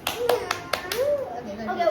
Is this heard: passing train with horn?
no